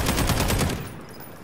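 Rapid automatic gunfire bursts in Call of Duty Warzone, a loud, dense rattling volley that runs for most of a second before dropping off.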